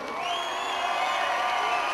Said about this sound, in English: Come on, let's cheer for these two girls.